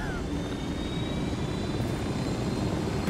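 Helicopter in the video game Ghost Recon Wildlands, a loud steady rotor and engine drone running throughout, close and constant, with a brief rise near the end.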